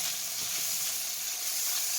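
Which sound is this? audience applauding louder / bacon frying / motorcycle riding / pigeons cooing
bacon frying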